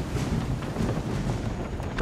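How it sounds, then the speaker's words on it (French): Strong wind gust sweeping across a sailing ship at sea in Assassin's Creed III, a steady loud roar of blowing air over creaking hull and water, with no talk. "Qu'est-ce que ce gros vent de travers là?"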